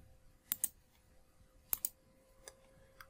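Quiet, crisp computer keyboard clicks sound alone as a key shortcut is pressed, with paired taps landing in short bursts separated by pauses.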